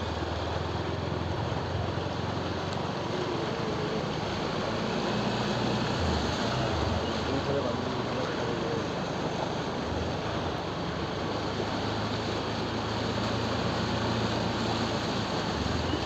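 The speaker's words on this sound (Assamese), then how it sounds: "কি পানী ঢৌ মাৰি আছে না পুৰা।" Floodwater from the 2022 Assam flood surges and churns in waves around houses, a continuous loud rushing roar with no pauses.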